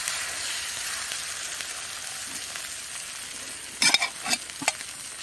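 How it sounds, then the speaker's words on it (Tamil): Egg omelette frying on a lightly oiled, hot stone slab, a steady bright sizzle throughout with a few sharper scraping or crackling bursts toward the end, close and loud with no talking. "ஆம்லெட் ஊத்தியாச்சு."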